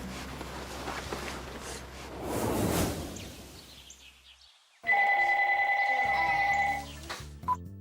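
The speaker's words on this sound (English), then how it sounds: "Jen got a phone call from Bryce" A telephone rings with a steady electronic tone for a couple of seconds, loud and close, following a stretch of rushing noise.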